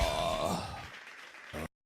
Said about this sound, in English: That applause is just for you.